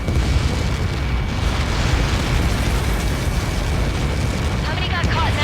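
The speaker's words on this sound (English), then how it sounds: "How many got caught in that explosion?" A large missile impact explosion in the Ace Combat 7 flight combat game rumbles as a sustained, loud, broadband roar through the whole span, with a faint chirping or radio-like sound near the end.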